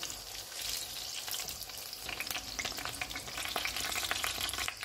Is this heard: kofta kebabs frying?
yes